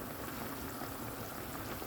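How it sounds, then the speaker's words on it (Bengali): Rohu fish curry broth with eggplant, potato and tomato boils in a pot, a steady, soft bubbling hiss that runs evenly throughout without any voices. "এই যে দেখুন ফুটে উঠছে"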